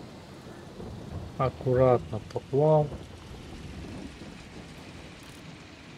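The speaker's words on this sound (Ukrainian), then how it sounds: "Дощ, дощ, дощ." Rain and thunder in Farming Simulator 22 form a steady, soft wash of rainfall with a low rumbling undertone across the whole stretch, while someone speaks briefly over it.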